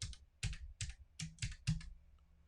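Keys on a computer keyboard are tapped in quick, quiet clusters of clicks with short pauses between them, close by in a quiet room while text is typed into a design app.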